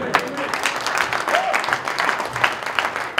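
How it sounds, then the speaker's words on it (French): Applause from a crowd at a political gathering, moderately loud and close with uneven individual claps standing out, while a voice briefly sounds underneath. "On applaudit très fort."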